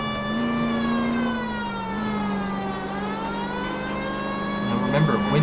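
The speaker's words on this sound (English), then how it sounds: "when driving as a cop, you always want to have your siren on" A police car siren in the video game L.A. Noire, wailing steadily and loudly over a driving engine drone, the pitch dipping slightly midway, with faint voices in the background.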